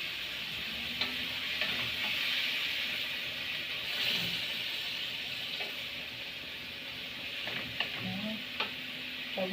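Chopped onion sizzles steadily in a hot pan while a utensil stirs and scrapes it in occasional clinks, with no one speaking over the steady frying.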